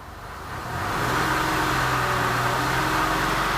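A car engine, checked with an automotive labscope, is raced up from near silence and then held at a steady, loud, droning speed with no talk.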